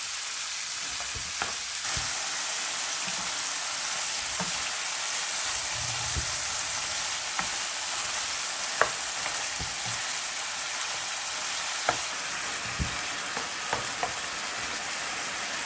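Steady sizzling and hissing of a large batch of naem sausage and fresh shrimp frying in a hot wok, with occasional scraping and clinks of a spatula stirring throughout, no voices.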